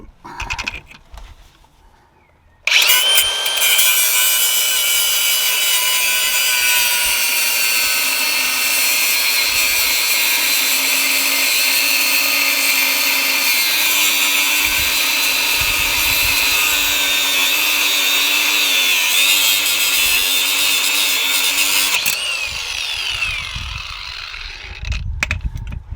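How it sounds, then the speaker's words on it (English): A battery angle grinder cuts during tie rod and track rod replacement on a Mini R50, a loud, close, high whine that starts abruptly and runs steadily for about twenty seconds before winding down. "the battery angle grinder is a godsend"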